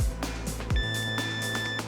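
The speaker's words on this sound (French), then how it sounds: "le détecteur vient de biper pour signaler qu'il s'est allumé" A dB7-R fishing bite detector gives a short electronic beep as it switches on, a steady tone lasting about a second, close and fairly quiet against low background rumble.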